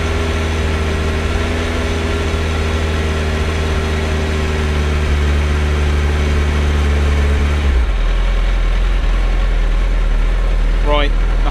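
A Suzuki Hayabusa motorcycle engine, part of a build project, runs with a steady, loud droning hum, then its tone shifts abruptly partway through, followed by a brief excited shout near the end.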